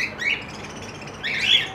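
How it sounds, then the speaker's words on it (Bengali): Cockatiels in a pet bird shop give two short, shrill chirping calls close by, separated by a brief quieter gap, with no talking. "তো দেখে নাও ককাটেল পাখি আছে এখানে"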